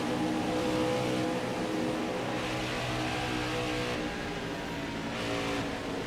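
A NASCAR Heat 5 race car drones steadily at high revs through an Xfinity race at Michigan, a dense, continuous engine roar holding loud and even throughout with no pauses.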